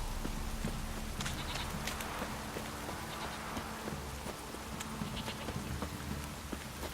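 Steady rain in the video game The Witcher 3: Wild Hunt hisses throughout, with scattered drips and patters and a low rumbling bed underneath; no one speaks.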